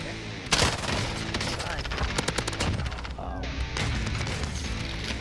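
Pistol shots in Call of Duty Warzone, a rapid string of sharp loud cracks fired close up, with a short gap before another quick volley.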